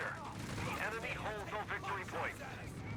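Heavy machine gun fire in the strategy game Company of Heroes 3, during a 1v1 match, rattles in steady bursts under continuous excited commentary.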